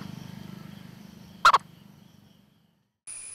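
A male Indian purple frog calling above ground gives a low, rapid pulsing croak that trails off, broken by a couple of sharp clicks, then quiet before a brief high tone.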